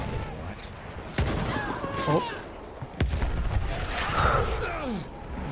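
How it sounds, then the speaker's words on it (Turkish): Battlefield 1 combat at the Gallipoli front produces sharp booms and gunfire bursts, with several loud impacts scattered across the clip amid rumbling battle noise and whistling sounds. "bir şey patladı orada"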